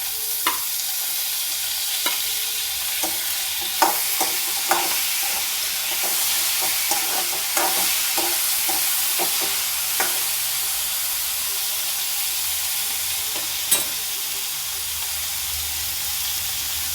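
Bitter gourd frying in a pan with tomato gives a continuous loud sizzle, punctuated by a steady series of sharp spoon taps and scrapes against the pan from stirring.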